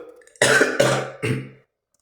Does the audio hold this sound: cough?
yes